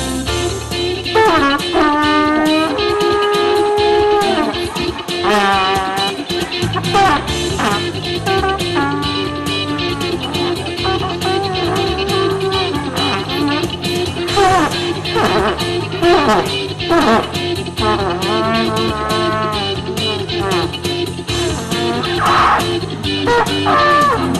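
A trumpet plays a winding melody over dense band accompaniment, sustained and loud with bending, wavering notes.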